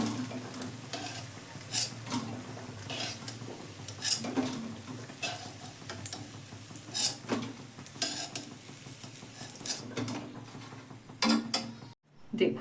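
Cabbage pakoras fry in hot oil in a wok, a continuous bubbling sizzle broken by repeated scraping and stirring clinks from a utensil against the metal, close and moderately loud, with a brief silence near the end.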